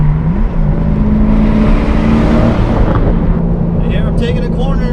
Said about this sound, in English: Here I'm taking a corner, going about 85, and it's sitting there.